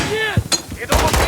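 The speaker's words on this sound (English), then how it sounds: "Return fire!" Gunfire in the Call of Duty Modern Warfare III video game, loud bursts of shots cracking out in a short firefight, mixed with shouted voices and in-game effects.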